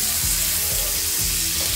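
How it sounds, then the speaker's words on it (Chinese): Beef sizzles loudly and steadily on a hot teppanyaki iron griddle at a beef restaurant, a dense continuous frying hiss with faint stirring or scraping beneath and no talk. "今天吃的是全牛料理，铁板烧，自己烤，自己煎，声音下去就是不一样"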